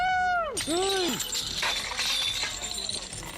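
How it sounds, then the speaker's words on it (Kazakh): A pull-up bar mounted at a cliff edge snaps and breaks with a sudden crackling crash after quick whooshing swipes, leaving a noisy clattering rumble that fades out. "Кенеттен сіріңкенің сабындай болған турник сынды да кетті"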